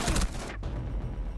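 Gunfire from a secondary shotgun in the video game Rainbow Six Siege, a loud burst of shots at the start followed by a sharp blast mid-clip over steady game noise.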